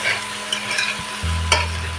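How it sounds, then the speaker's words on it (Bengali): Jackfruit curry with tomato sautés in a pan under a steady, close hiss of frying, with a few scrapes and a brief clunk as it is stirred. No talking. "আমি এভাবে 3 মিনিট বা 2 মিনিট ধরে কষে নেব"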